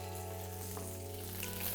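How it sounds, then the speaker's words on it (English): Vegetables sizzling steadily in a hot pan of Christmas leftovers, a continuous close frying crackle with no voices over it. "You want that lovely frying sound."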